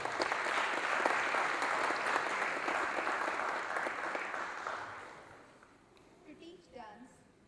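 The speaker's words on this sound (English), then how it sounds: "A round of applause for Dr. Sarita Garu." Dense applause from an audience at a dance recital honouring a teacher, loud and sustained for about five seconds, then tapering off into quieter scattered sounds.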